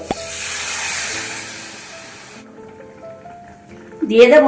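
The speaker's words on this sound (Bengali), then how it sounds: "তারপরে পরিমাণ মতন জল ঢেলে নেব" Water poured into a hot pan of fried spices for an ilish and eggplant curry sets off a loud hissing sizzle that fades away, followed by a short spoken phrase and a clatter near the end.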